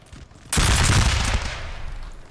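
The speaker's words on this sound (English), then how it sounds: "they're going to get point blank fired by some grenadiers" Grenadiers fire a musket volley at point-blank range in a Napoleonic Total War battle, a sudden loud crackling burst of many shots at once that rolls on and fades over a couple of seconds.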